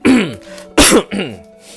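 Several short, rough coughs and throat-clearing bursts come in quick succession, close and fairly loud, with no talking.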